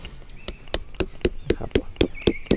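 A hammer drives tent stakes into the ground while a teepee-style auto tent is pitched, about ten sharp, evenly spaced blows at a steady rhythm, close and distinct, with faint bird or insect sounds behind.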